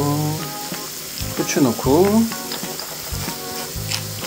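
Butter melts in a hot frying pan with a loud, close, continuous sizzle and crackle, while a person speaks briefly over it.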